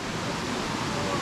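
A waterfall in Wayanad roars as a dense, constant wash of falling water, steady and fairly loud throughout a short moment.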